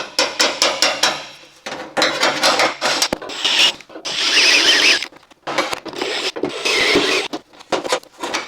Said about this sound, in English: I got my normal hammer.